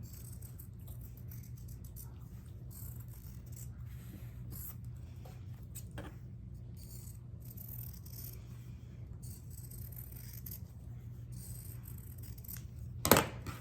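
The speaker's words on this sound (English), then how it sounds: "I'm just going to trim it like we did a minute ago. Trim it along that paper line" Scissors trim quilting fabric along a paper line, producing faint, close snipping and scraping over a steady low hum, ending in a brief louder clack; no talking.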